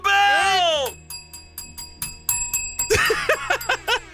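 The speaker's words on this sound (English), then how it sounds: "Ring the bell!" A bell rung as a celebratory effect on a live sports radio show covering the NFL draft: a sweeping electronic tone, then several bright, ringing metallic strikes that sustain before a voice speaks over them.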